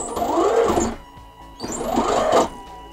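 A homemade Batman-themed electric skateboard's motor runs under throttle in two bursts, each a rising and falling electric whine with a mechanical buzz. The whine is close and fairly loud, with a short lull between the bursts.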